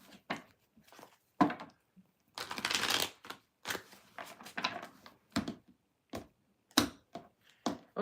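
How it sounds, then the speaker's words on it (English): Tarot cards shuffled by hand in a run of crisp riffling bursts and short flicks, close and fairly loud, with brief pauses between passes and no talking. "Last bit of shuffling before I pull the cards for Cancer."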